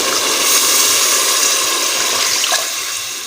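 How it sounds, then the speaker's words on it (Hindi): Water is poured from a cup into a pot for kala chana pulao, a loud, continuous splashing gush that eases off toward the end. "हम 4 प्याली जो है पानी की डाल लेंगे।"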